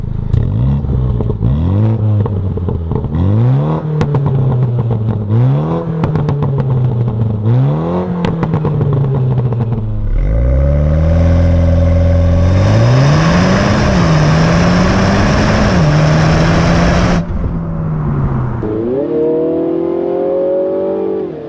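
A 2020 Mini Clubman JCW engine revs and accelerates loudly through repeated gear changes, each pull rising and dropping in pitch, then building to a long sustained high-rev run before easing off.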